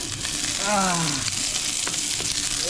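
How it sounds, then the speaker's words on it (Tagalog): Aromatics go into hot cooking oil for sautéing, giving a steady, loud sizzle and hiss with stirring scrapes, and a brief voice heard over it. "Gisa na tayo. Nakapagpainit ako ng mantika."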